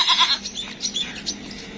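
Goats being tethered by a woman bleat in a few short, nasal calls close by, followed by quieter rustling and faint farmyard sounds.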